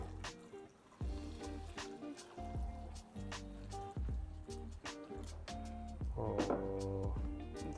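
Hot water poured over mozzarella curds in a home kitchen, a steady close trickle and splash running continuously with a few tonal ringing notes.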